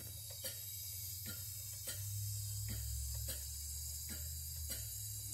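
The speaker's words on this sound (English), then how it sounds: "And it'll sew a nice straight stitch, straight as I can handle it." An antique Wilcox & Gibbs sewing machine, about 120 years old, stitching a straight seam: a steady low running hum with regular mechanical clicks roughly every second, close and moderately loud, no talking.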